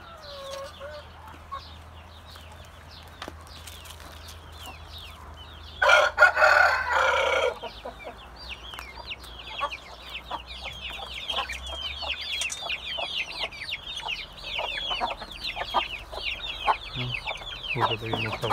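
Village chickens and chicks cluck and chatter continuously in a busy coop, with a loud rooster crow bursting out midway and a low engine hum fading underneath.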